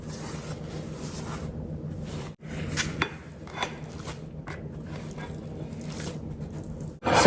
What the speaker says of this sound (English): So now we're just going to take this out of here and dump it into the bowl.